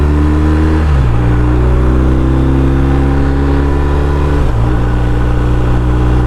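A 2021 BMW R1250 RT motorcycle engine pulls hard under acceleration, its loud steady drone rising in pitch, dipping briefly at each quickshift gear change, then climbing again, heard up close from the rider's position without speech.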